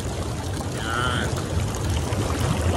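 Water bubbles and churns in a cold-water jacuzzi at a farm, a close, steady gurgling wash, with a brief higher splash partway through.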